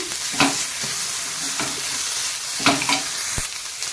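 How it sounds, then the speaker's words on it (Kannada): An onion and chili stuffing with crushed green chilies sizzles steadily in a pan, with repeated scraping strokes of a spoon stirring through it and a sharp knock near the end. No talk. "ನೋಡಿ ಈಗ ಎಷ್ಟು ಚೆನ್ನಾಗಿ ಫ್ರೈ ಆಗಿದೆ"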